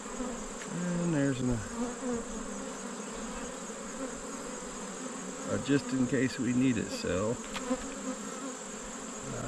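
A Caucasian honeybee colony hums steadily during a hive inspection, a dense close buzz with individual bees droning past the microphone, while someone talks quietly over it.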